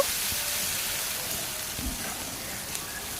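Chopped onion fries in hot oil in a pan for a fish curry, a steady, even hiss of sizzling with faint crackles and an occasional soft knock, close and unbroken throughout.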